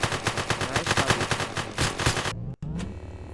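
Rapid automatic gunfire in the One-Armed Robber video game, a dense string of loud, closely spaced shots for about two seconds, followed by a short pause and then a few more bursts.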